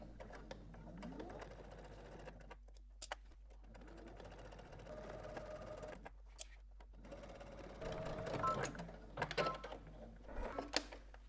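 A sewing machine stitches in the ditch on a dress bodice, running in short and long bursts with pauses, quiet and close, with faint clicks between runs.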